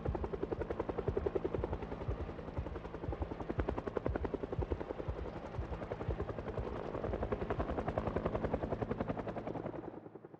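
A video-game helicopter passing close by, its rotor chopping in a fast, steady beat that holds loud throughout and then cuts off abruptly at the end.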